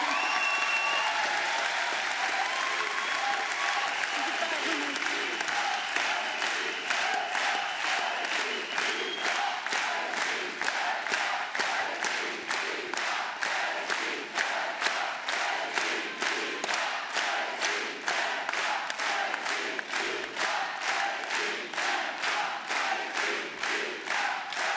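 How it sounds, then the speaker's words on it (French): A large crowd at a political rally in Montpellier breaks into loud, sustained applause with cheering, which settles into rhythmic unison clapping that pulses steadily for over twenty seconds. "Je vous demande un tonnerre d'applaudissements pour Rima Hassan"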